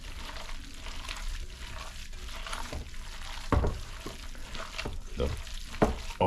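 Hands squishing and kneading a wet meatball mixture of ground meat, eggs, milk and lime juice in a bowl, a close, continuous soft squelching with occasional louder wet slaps.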